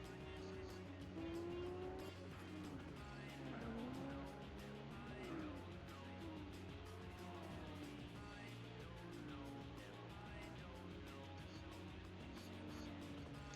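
Racing cars in Gran Turismo 4 drone and whine through gear changes, with tire squeal, at a low level under someone talking.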